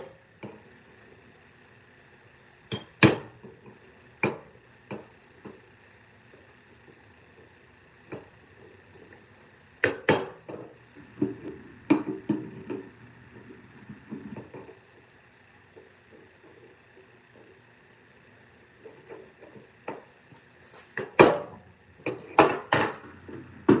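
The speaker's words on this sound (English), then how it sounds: "let's use our makeshift hammer" Sharp metallic taps from a makeshift hammer striking a clip on a Briggs and Stratton 10,000 watt generator, scattered single knocks then a quicker cluster near the end, close and fairly loud, no talking.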